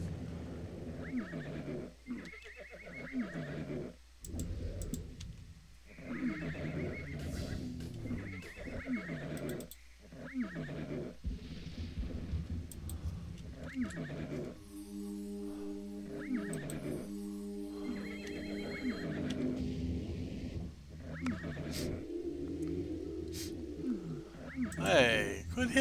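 A horse in the video game Ultima Online neighs repeatedly in short whinnies, mixed with game effects and a person talking over the action.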